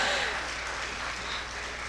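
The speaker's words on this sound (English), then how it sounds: "Please, a round of applause for the minister." Applause from a conference audience for a government minister at a media and information session, a steady wash of clapping that stays fairly even and moderately loud for the whole stretch, slowly thinning toward the end.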